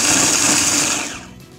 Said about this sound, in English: So I'll be firstly chopping ginger and then I'll chop garlic.